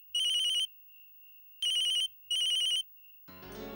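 A phone's electronic ringtone trills in three loud bursts with quiet gaps between them, close and clear, before a short snatch of background music at the end.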